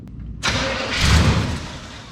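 A 1988 Chevrolet 3500 truck engine with a manual carburetor setup cranks and catches, then runs rough and loud up close, surging before settling.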